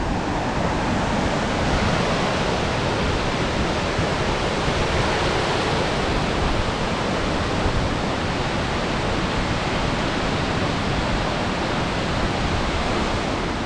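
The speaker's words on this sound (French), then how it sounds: "Il y a des vraies grandes cascades" A steady, powerful roar of rushing water fills the whole clip, dense and unbroken, from large waterfalls in Greece heard from close by.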